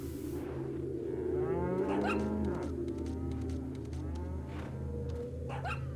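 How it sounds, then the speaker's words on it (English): Cow in the Resident Evil 4 Wii Edition game lets out a long, loud, low moo with a rising, wavering tone, followed by a couple of shorter lowing calls over steady game background hum. "Well, that's a cow."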